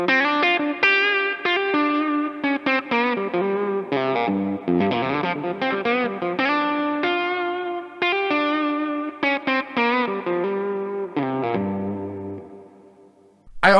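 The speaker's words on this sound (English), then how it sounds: "And then back to humbucker mode." A 2019 Gibson Les Paul Standard electric guitar in Blueberry Burst, in humbucker mode, plays a fuller, thicker melodic lead through effects, with steady picked notes and sustained bends up close, ending in a fading held note.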